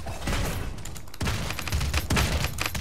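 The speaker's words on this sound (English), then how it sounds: "Are you getting shot at?" Realm Royale gunfire crackles in a dense, steady spray, broken by a brief lull around the one-second mark before the shooting resumes with heavier bursts.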